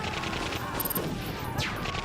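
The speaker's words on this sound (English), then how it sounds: "Angry shots are accompanied by gunfire." Gunfire in the video game Baldr Sky, a dense fusillade of rapid shots with crash-like bursts running throughout at steady loudness, with a faint voice in the mix.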